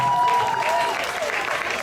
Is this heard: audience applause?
yes